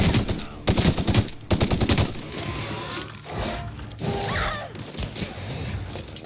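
An AK-type assault rifle in The Outer Worlds fires rapid automatic bursts, loud and close, followed by mechanical clatter and softer game sounds.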